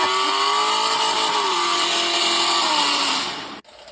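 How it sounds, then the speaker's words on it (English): A car engine revs hard and continuously at close range, the pitch sliding as the throttle shifts, then cuts off abruptly near the end. "Start your engines."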